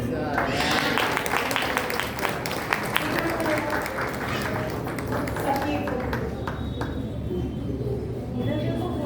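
Audience applause for children after a Gayatri mantra recital at a junior Arya Samaj kids' programme in Bangalore, a sustained crowd clapping near and loud, slowly thinning toward the end.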